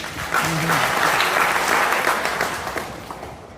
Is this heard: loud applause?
yes